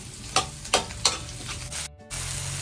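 Garlic and onion sautéing in a pan for adobo sitaw, a soft steady sizzle broken by three sharp utensil scrapes and stirs in quick succession, with a brief dropout near the end.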